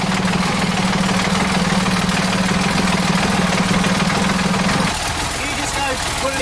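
A sailboat's engine runs in gear with a steady, loud mechanical drone and a low hum that drops away near the end, as someone talks over it.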